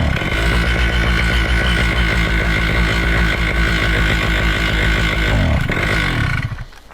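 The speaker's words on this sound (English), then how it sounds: "Quick blimp on the throttle and see how it reacts" A Moster backpack paramotor engine, warmed up and running at high idle, roars loud and close with a steady, pulsing throttle blip. The engine then sags and dies away near the end.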